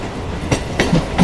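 A local train on the Dumdum to Majerhat line pulls away from Kolkata station, a rumbling carriage noise with a few rhythmic wheel clacks over the rails, close and loud.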